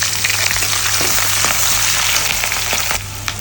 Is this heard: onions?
yes